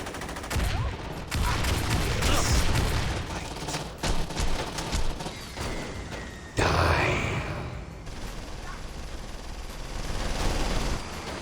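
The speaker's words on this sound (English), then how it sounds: "then you have other Samdi members just constantly shooting at you" Bursts of gunfire from enemy Samedi gang members in the Saints Row video game, with repeated shots and explosive cracks spread across the stretch over a busy in-game background.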